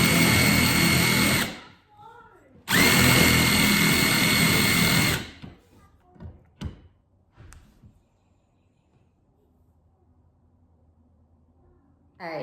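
A power drill drives a screw into wood during an old house renovation, two loud whirring bursts of a few seconds each, then short clicks and scrapes before near silence.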